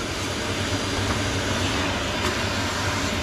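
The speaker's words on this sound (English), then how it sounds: "Give it a quick hoover." A vacuum cleaner hoovers out the inside of an eco boiler stove during cleaning, giving a steady, continuous broadband whoosh and hum that holds level throughout with no talk.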